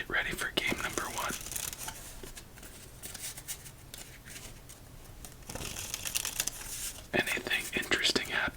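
A Poker Cats playing card deck being shuffled at close range, soft riffling and crinkling bursts at the start and again near the end, with quieter handling rustle in between.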